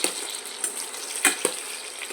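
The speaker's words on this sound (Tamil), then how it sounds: "இப்போ போட்டு நல்லா வதக்கலாம்." A cinnamon stick sautéing in hot oil with tomatoes, giving a soft crackling sizzle broken by a few sharp spatula scrapes and stirs, close by.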